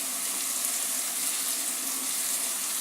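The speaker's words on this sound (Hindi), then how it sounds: "तो इस तरह से हम लहसुन को थोड़ी देर भून लेंगे ताकि इसका कच्चापन ख़त्म हो जाए।" Garlic frying in an oiled pan, cooked briefly for rajma masala, giving a steady, even hiss of sizzling that runs unbroken and fairly soft throughout, with no voices.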